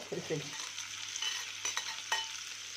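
Onion and peppers sizzle gently in a pan while a utensil stirs them, producing soft scraping strokes and brief clatters over a steady frying hiss, close and fairly quiet.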